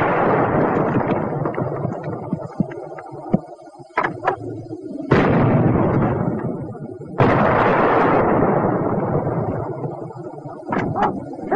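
A WWII anti-tank weapon strikes armour with heavy, booming blasts, two big detonations about two seconds apart following earlier thuds, on an old, noisy recording with a loud, rough texture.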